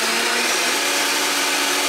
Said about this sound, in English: Now we're gonna blend for 5 minutes.